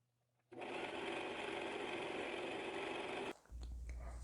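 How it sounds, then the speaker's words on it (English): A sewing machine runs steadily for about three seconds, stitching elastic onto velvet fabric while the elastic is stretched, with a short pause and a low rumble as it stops. "I am going to sew it all the way down. I want to make sure that I stretch the elastic while I'm sewing."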